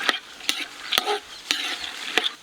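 Cashews and peanuts fry in peanut oil with a soft, steady sizzle. A few sharp utensil knocks of stirring sound at regular intervals over it.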